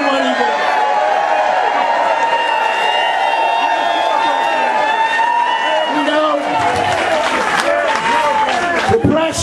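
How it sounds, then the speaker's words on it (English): Crowd at an outdoor counter-protest gun rally in Morrisville, Pennsylvania, applauding and cheering for Senator Joe Manchin. The sustained crowd noise grows into clearer clapping toward the end, with voices mixed in. "let's give Joe Manchin a round of applause for doing what he did"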